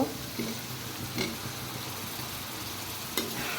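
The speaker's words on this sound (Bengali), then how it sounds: "এটা দেওয়ার পরে আরও কিছুক্ষণ তেলের ভিতরে এটা ভাজা ভাজা করব" Pieces of salted hilsa fish fry in oil in a pan for a spiced bhuna, giving a soft, steady sizzle with a few brief stirring clinks and scrapes.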